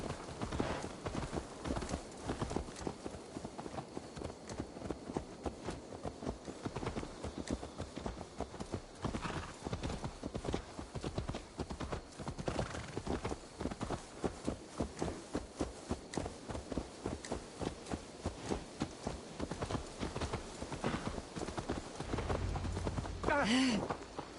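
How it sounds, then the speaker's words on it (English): Horse hooves clip-clop steadily in Assassin's Creed Valhalla on PS5, a continuous rhythmic trot with a brief neigh, while voices talk over the gameplay. "Let's return the horse."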